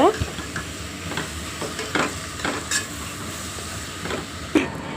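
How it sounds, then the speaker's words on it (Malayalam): Chili powder is stirred into a sizzling pan of masala for butter chicken: a spoon scrapes and taps in a steady rhythm over a constant close frying hiss. "മുളക് പൊടി ഇട്ടിട്ട് നല്ല മിക്സ് ചെയ്ത് കൊടുക്കുക നമ്മൾ."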